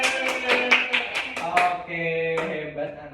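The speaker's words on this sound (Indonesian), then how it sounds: "Oke, tepuk tangan buat Ica." Schoolchildren in a classroom clap for a classmate in a quick rhythmic pattern of sharp claps, then chant or sing together.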